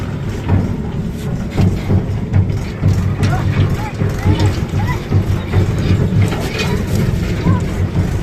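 A Mahindra tractor drives into floodwater. Its engine thuds in a low, steady, close rhythm while water splashes and wind buffets the microphone, and someone talks over it.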